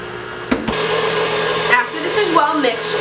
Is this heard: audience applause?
no